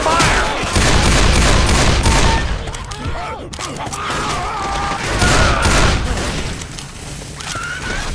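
Rapid gunfire bursts and booming shots from a Left 4 Dead zombie-survival game, loud and nearly continuous across the clip, mixed with chaotic action noise.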